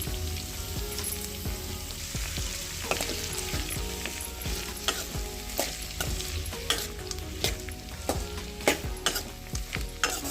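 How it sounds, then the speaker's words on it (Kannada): Capsicum frying in a pan for capsicum chitranna, with a steady sizzle broken by repeated sharp scrapes and clinks of a spoon stirring, close and fairly loud, no talking. "ಸ್ವಲ್ಪ ಫ್ರೈ ಆದಮೇಲೆ ಕ್ಯಾಪ್ಸಿಕಮ್ ಹಾಕ್ಕೊಳ್ಳೋಣ."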